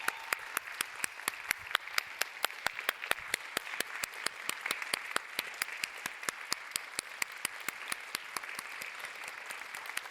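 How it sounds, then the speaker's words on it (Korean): A church congregation at a Sunday youth worship service claps steadily for ten seconds, welcoming department heads and ministers onto the stage. The applause is dense, even and close throughout, with no voices over it. "우리 올라오실 때까지 박수로 환영하겠습니다."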